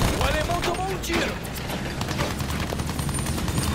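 Rapid volleys of gunfire crackle from the World War I shooter game Battlefield 1, with bursts of shots and battlefield noise under a voice.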